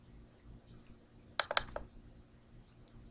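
A few quick mouse clicks sound in a short cluster at a computer while working in SPSS statistics software, close and crisp over a quiet room hum.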